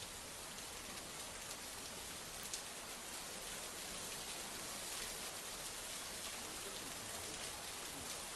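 A dense, steady roar of heavy monsoon rain falls across Mumbai during a downpour with waterlogged streets, a constant broadband hiss with faint scattered drops and no voices.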